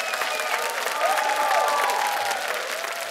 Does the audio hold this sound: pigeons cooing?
no